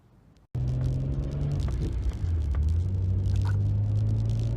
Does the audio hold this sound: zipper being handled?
no